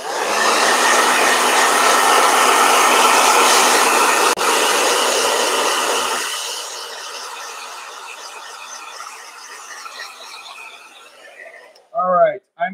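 A blow dryer runs close and loud as a steady whooshing roar for about six seconds, then drops to a softer hum and winds down. A voice speaks briefly near the end.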